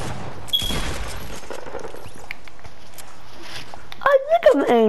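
Fortnite gunfire crackles in a burst of shots early on, followed by quieter game noises such as footsteps, and a voice talks near the end.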